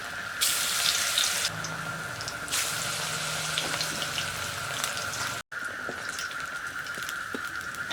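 Helencha leaf and coriander leaf pakoras frying in hot oil, a steady close hiss and sizzle running the whole time, briefly cut off near the middle, with a faint low hum underneath.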